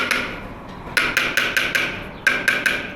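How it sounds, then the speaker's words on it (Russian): Sharp, ringing hammer blows strike in quick bursts on a school building site, close and loud, with short pauses between groups of strikes. "здесь бьют молотками и кладут кирпич"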